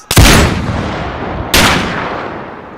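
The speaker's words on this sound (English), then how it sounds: "they remained confined while gunshots rang out" Two loud, sharp gunshots ring out about a second and a half apart, each trailing off in a long echoing decay, evoking sniper fire at the Grand Mosque in Makkah during the 1979 siege, with no voices.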